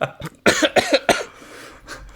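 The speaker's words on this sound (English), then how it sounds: "it's gone down the wrong way and I can't stop coughing" A woman coughing hard after a drink went down the wrong way, several close, loud hacking bursts in quick succession, then tailing off into quieter throat sounds.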